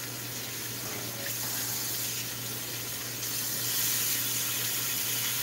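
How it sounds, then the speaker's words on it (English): A kitchen tap runs steadily as raw meat is washed under it for sauerbraten, an even rushing hiss of water that swells slightly toward the end, with no speech. "I'm going to handle this meat and wash it one more time."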